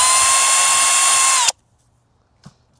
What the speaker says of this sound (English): So let's hook this drill up and get started.